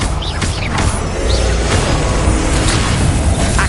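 A Confringo blasting spell explodes in the Hogwarts Legacy video game, a loud, dense boom with rumbling crashes that fill the whole stretch with continuous blast noise.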